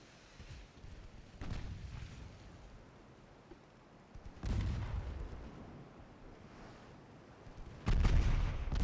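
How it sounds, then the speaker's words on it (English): Naval gunfire in a battleship video game, the secondary guns of the Profintern booming in three heavy bursts spaced a few seconds apart, each with a rumbling tail over a low background hum. "Secondary guns on Profintern."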